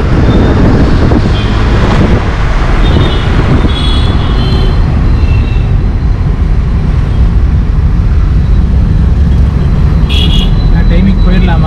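Heavy traffic on a busy main road, a dense continuous rumble of car and bus engines with passing vehicles close by, steady and loud throughout.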